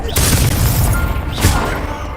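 A Confringo blasting spell explodes in the Hogwarts Legacy video game, two loud booming bursts about a second apart over a dense rumbling combat mix, with voices around the blasts.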